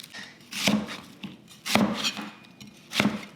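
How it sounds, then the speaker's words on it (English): A large peeled onion being cut into chunks on a board, three distinct knife chops with crisp thuds spaced about a second apart, close and clear with quiet pauses between. "What you want to do is just peel it and then cut it into large chunks."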